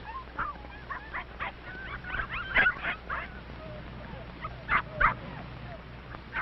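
Several short yips and barks from a dog pop out at intervals over a low background, fairly close, with some whimpering between bursts.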